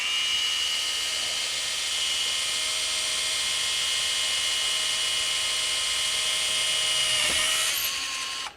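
An SDS drill with a tap head runs continuously, a loud, steady high-pitched whine with a constant motor hum as it taps a hole in metal, then it winds down near the end, with no voices.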